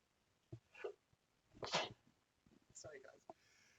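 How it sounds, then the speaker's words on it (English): A woman sneezes at close range, a sharp burst standing out among soft breathy sounds and brief vocal noises, part of a sneezing fit. "want to sneeze now."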